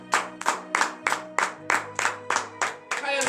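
A congregation at a morning prayer service in Benin claps in a steady, rhythmic beat, about ten loud, close hand-clap bursts evenly spaced, with a few voices rising near the end.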